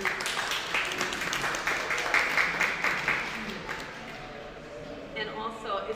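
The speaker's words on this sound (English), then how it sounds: "give all of yourselves a round of applause for the great work that you've done" A crowd of seniors applauds themselves at a senior art show, dense clapping that gradually thins and fades, with some speech over it toward the end.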